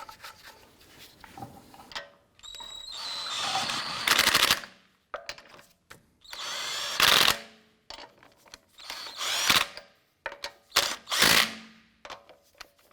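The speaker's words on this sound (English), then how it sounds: "Get our lug nuts all started by hand first, and then we'll snug those down." Lug nuts on an Acura TL wheel are driven down with an impact tool in loud, short rattling bursts separated by pauses and clinking handling noises.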